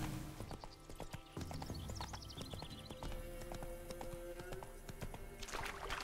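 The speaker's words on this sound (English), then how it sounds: "Run, Roach. Jump? Jump, horsey?" Horse hooves clip-clopping at a quick gallop in The Witcher 3 video game, a steady rhythmic drumming of hoofbeats with faint game ambience and a soft whinny.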